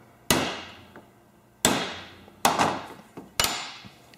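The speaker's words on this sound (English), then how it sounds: "Then all you do is just flatten it out a little bit with a hammer and a punch." Four sharp metallic hammer blows on a punch flattening a metal plug in a Tecumseh snow blower carburetor, spaced unevenly with a quick pair near the end, each ringing briefly before fading.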